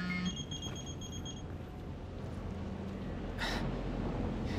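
A mobile phone rings inside Final Fantasy XV, a bright electronic ringtone of short repeated beeps for roughly the first second and a half before fading out beneath steady game ambience.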